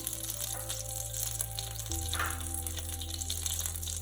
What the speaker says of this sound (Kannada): ಗೀ ಚೂರು ಮೆಲ್ಟ್ ಆಯ್ಲಿಕ್ಕಾನೆ